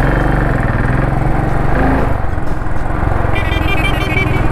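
A Royal Enfield Continental GT 535 cafe racer motorcycle being ridden, its loud single-cylinder engine thumping steadily up close, with a brief shift in pitch partway through as it heads out onto a main road.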